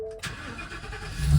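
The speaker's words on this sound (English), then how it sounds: "let's start her up." A 2022 Ford E-350 Super Duty box truck with a 7.3-liter V8 engine cranks and fires up after a brief pause, then settles into a rising idle rumble, heard up close with no talking.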